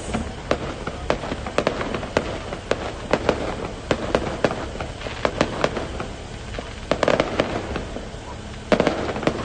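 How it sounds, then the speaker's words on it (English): Diwali fireworks pop and crackle repeatedly at a distance near a Sikh temple, sharp irregular bangs over a low murmur of background noise and scattered voices. "Those are the beautiful fireworks."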